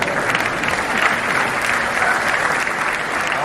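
Steady, dense applause from a large audience, many hands clapping continuously at an even level with no pauses.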